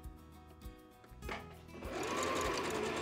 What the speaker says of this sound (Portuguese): Aí eu venho aqui e coloco um pé de máquina e faço essa costura também.